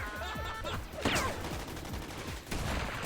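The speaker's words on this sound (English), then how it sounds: "This LMG shoots fireballs?" A modded LMG firing fireballs in a deathmatch video game, heard as a steady stream of rapid, moderately loud shots with whooshing, sweeping tones layered through the bursts.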